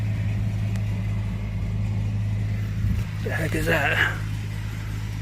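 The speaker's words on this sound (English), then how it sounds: "Oh, a farm tractor." A farm tractor passing as a low, steady engine drone that stays fairly constant throughout, with a voice briefly speaking over it near the end.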